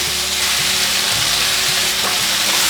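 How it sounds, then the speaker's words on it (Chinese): A vegan nori dish being stir-fried in a pan after a splash of water: a steady, loud sizzle with continuous frying hiss and occasional scrapes of stirring throughout. "继续翻拌， 翻炒至水分收干，所有味道都融合了。"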